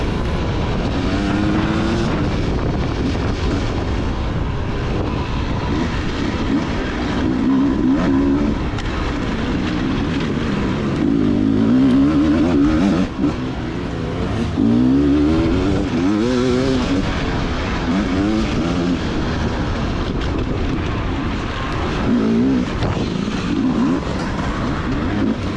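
A Beta dirt bike engine revs hard and rises and falls in pitch as the throttle is twisted during a hare scramble race, loud and continuous throughout with no talking.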